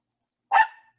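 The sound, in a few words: Chihuahua mix dog barking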